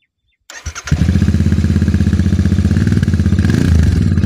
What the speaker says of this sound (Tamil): எக்ஸ்ட்ரா வண்டி ஸ்டார்ட் பண்ணிக்கலாம்.